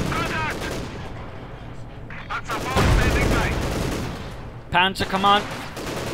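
Gunfire and mortar fire from the World War II strategy game Company of Heroes 2 crackle in bursts and thumps under a commentator's steady talk, with a louder cluster of shots near the end.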